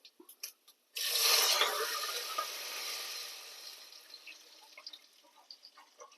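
About a litre of water is poured into a pot of hot tempering for a traditional toor dal rasam. After a few soft clinks, a loud, steady rush and hiss starts, then fades to gentle bubbling and sizzling.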